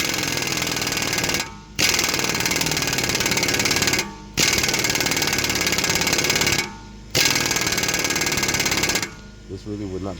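Pneumatic impact wrench removing an axle nut on a 2020 Nissan Altima, running in three long, loud hammering bursts with brief pauses between them, then a shorter stuttering burst at the end.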